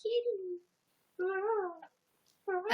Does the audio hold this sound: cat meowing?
yes